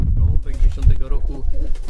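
Low, throaty pigeon cooing close by at a racing pigeon breeder's loft, repeated in soft rolling bursts, with people talking quietly underneath in Polish.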